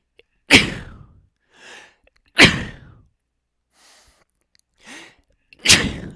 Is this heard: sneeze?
yes